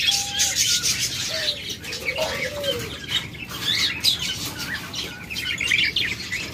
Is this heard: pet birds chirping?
yes